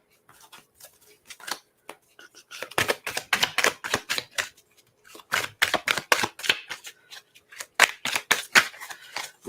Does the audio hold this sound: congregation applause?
no